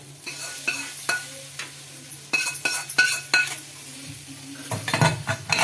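Hot tempering sizzles briefly as it hits a pot of poha pongal, followed by metal spoon clinks and stirring scrapes against the vessel.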